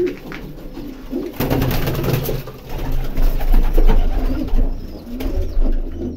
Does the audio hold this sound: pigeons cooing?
yes